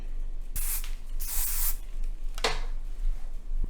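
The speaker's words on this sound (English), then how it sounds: "So I'm just gonna do one final spray" Hissing hair spray in a few bursts, two longer sprays followed by a shorter one, close and fairly loud over a low hum.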